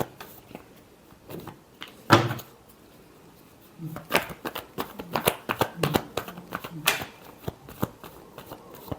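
A tarot card deck being shuffled by hand, with irregular papery riffles and soft slaps arriving in uneven bursts, one sharp burst early, then a denser cluster later, fairly close and moderate in level.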